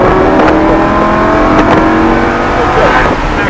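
Lamborghini Huracan LP610-4 accelerating hard at Summit Point Motorsports Park, loud close engine roar with rising tonal harmonics and brief gear-shift breaks, heard from inside.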